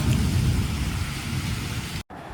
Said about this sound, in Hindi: देखो केते जोरे वर्षा हो